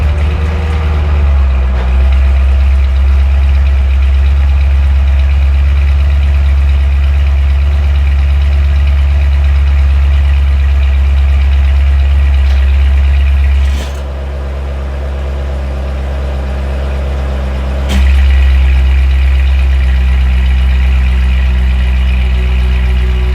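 A Chevrolet C6 Corvette Z06 engine running with its exhaust valves open, a deep, loud, steady rumble throughout, dipping briefly in level near the middle before returning strong.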